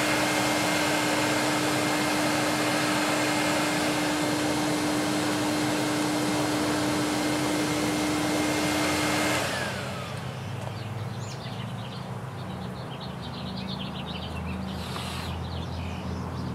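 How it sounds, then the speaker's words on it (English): A vacuum runs steadily during a bee cutout from an RV, a loud continuous whine with a sustained tone that cuts off partway, leaving lower machine noise and faint background sounds. "Vacuum."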